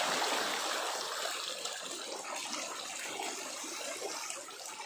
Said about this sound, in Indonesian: Pakai keran, dia mengalir terus.